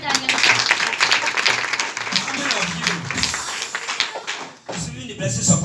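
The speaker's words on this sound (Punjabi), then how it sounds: "Clap for Jesus." A church congregation claps, a loud dense crowd applause with people talking over it. The clapping thins out and falls briefly near the end, then picks back up.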